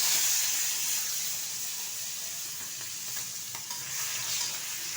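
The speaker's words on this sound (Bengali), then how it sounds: "হালকা করে চিংড়ি মাছটা একটু ভেজে নেব।" Shrimp fry in a pan after whole cumin seeds, for a Bengali shrimp, drumstick and potato curry: a steady, close, continuous sizzle and hiss with faint stirring throughout.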